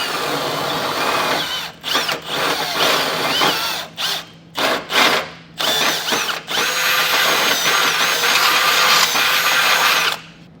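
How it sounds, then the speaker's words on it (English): A loud power drill whirs steadily with a grinding bit, widening a hole on a 2024 Ford Escape while fitting a Blue Ox base plate, stopping and restarting several times in short pauses before one long continuous run. "I'm just going to put a little grinding bit on there."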